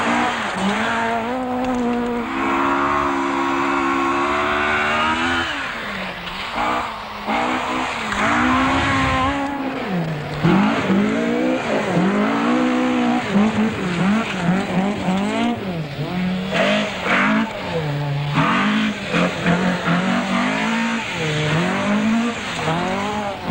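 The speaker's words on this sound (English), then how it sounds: "Clark tackles the first of 3 tarmac stages in Glasgow's Bellahouston Park" Rally cars such as Ford Escorts and Vauxhall Chevettes race a tarmac stage in Glasgow's Bellahouston Park during the 1978 British Open Rally Championship. Engines rev loud and close through rising and falling gear changes, with tyre squeal, continuously for over twenty seconds.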